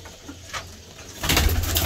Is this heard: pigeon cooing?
yes